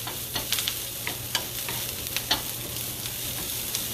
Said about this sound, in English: just going to saute a little bit.